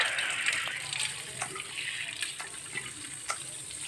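Water sprays steadily from a modified tap fitted as a shower head, a soft, even hiss with occasional splashes, faint and close.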